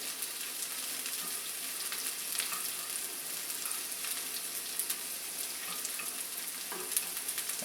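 Onions frying in a pan for egg foo yung, a soft, continuous sizzle and crackle with faint scattered pops and no talk.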